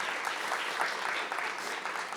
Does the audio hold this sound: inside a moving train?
no